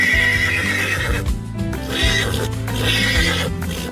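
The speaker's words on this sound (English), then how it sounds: "I think I hear hooves. It's a horse. Horses go neigh." A horse neighs loudly and close, a couple of long whinnying calls with faint hoof clatter beneath, no talk.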